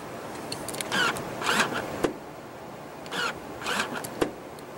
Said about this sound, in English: power folding rear seats.